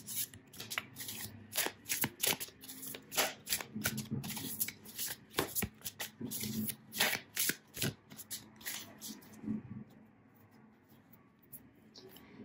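A deck of tarot cards is shuffled by hand in quick repeated riffles and cuts, crisp close flutters and slaps in an irregular rhythm that trail off into quieter handling.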